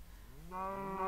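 A cow from the video game Minecraft gives a short, faint moo that rises in pitch, alone for about a second.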